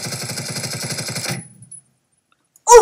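Automatic gunfire in the Phantom Forces video game: a rapid, loud burst of rhythmic shots that stops abruptly, followed by silence and then a short sharp sound.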